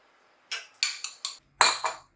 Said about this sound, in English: Most important, whisk away.